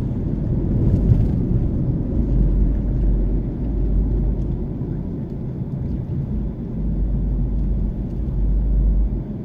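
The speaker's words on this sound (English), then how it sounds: "we're driving through the town of Porus right now" Low, steady road rumble from inside a car driving through the town of Porus, with continuous engine and tyre noise and no clear separate events.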